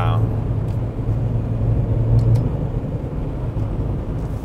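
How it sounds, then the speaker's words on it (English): Maserati Levante Hybrid with a 2-liter turbo engine accelerating at higher speed, a steady low engine drone and road rumble heard from inside the cabin, fairly loud and even. "on higher speed, you can really feel the 2-liter turbo spooling up and just pulling this car nicely"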